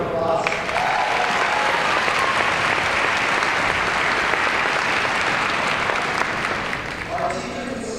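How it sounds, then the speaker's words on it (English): Sustained applause from a large crowd at a high school graduation ceremony, dense and even for several seconds before tapering off at the end. "Let's give them a round of applause."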